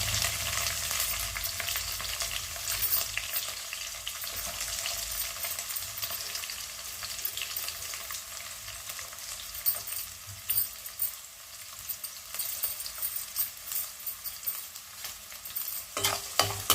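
Chopped green chillies and onions stir-fried in oil in a pan for a spicy tomato egg fry: a continuous close sizzle runs throughout, broken by scraping stirs and a louder clatter near the end, with no speech.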